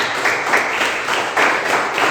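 A church congregation claps its hands together in a steady, fairly loud rhythm, a broad wash of many palms beating in time.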